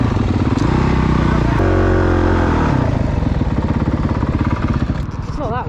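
A motocross motorcycle revs loud and close as it climbs a hill, its engine note rising and shifting through gears before settling, with talk over it near the end.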